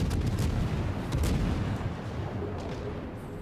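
Naval gunfire from warships in World of Warships, a continuous rumbling barrage of booming shots rolling over one another, loud and dense with no voices.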